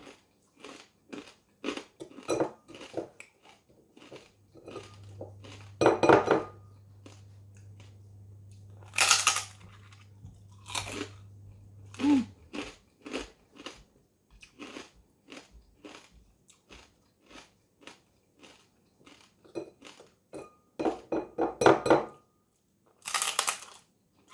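Crispy fried pork head is bitten and chewed up close, with sharp, irregular crunches separated by quiet pauses across the clip.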